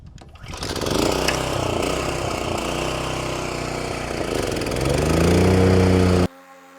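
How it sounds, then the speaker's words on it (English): Ybravo 25-inch commercial mower starts up and mows, a steady loud engine drone that rises in pitch near the end before cutting off abruptly, heard close with no talking. "I'm gonna fire it up, and I'm just gonna mow away from you"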